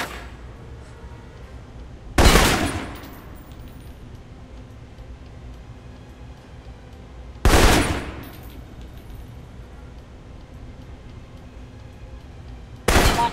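Assault rifle fire in the video game Alpha Protocol, three sharp loud bursts spaced several seconds apart, each with a short decaying tail, over a low steady background hum.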